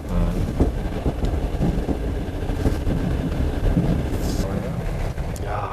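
Steady rumble and rattle inside a moving train carriage travelling beside Lake Baikal in East Siberia, a continuous low roar with faint clatter and no clear voices.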